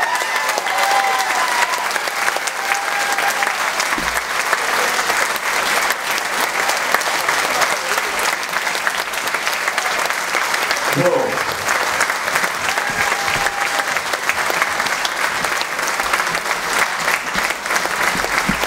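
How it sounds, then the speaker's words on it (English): An Elvis Week tribute crowd in Memphis, Tennessee keeps up a long, steady round of applause for veterans on stage, with a few scattered shouts and voices mixed into the clapping. "give these guys a big round of applause"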